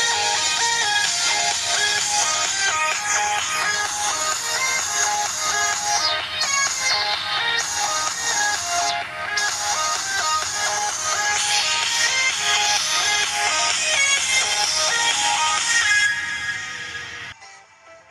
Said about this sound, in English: Here's the quality of the Kospet Tank T3 Ultra speaker.